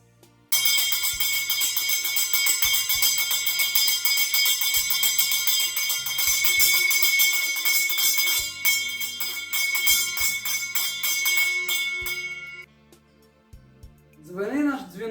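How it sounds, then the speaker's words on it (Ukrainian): A school first bell rings at a September 1 ceremony, a bright, rapid tinkling that runs continuously for about twelve seconds over a low background of voices and music, then stops. "Право надати перший дзвоник надається учням 9 класів"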